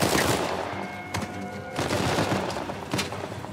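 Sustained gunfire from Uncharted 4 on PS5, dense automatic bursts with overlapping shots and a couple of sharper impacts, loud and continuous with no voices.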